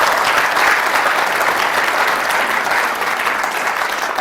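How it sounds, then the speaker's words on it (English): A conference audience at a climate-policy keynote breakfast gives dense, sustained applause, a loud unbroken roar of many hands that eases slightly toward the end. "Joe Bast in particular and Fred Singer must be given, I think, a huge round of applause for the devotion that they have shown in producing these documents"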